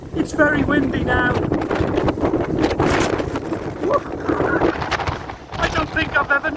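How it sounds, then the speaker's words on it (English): Strong wind buffets the microphone in loud roaring gusts aboard a boat, with people talking intermittently underneath. "As you can see, it's very windy now."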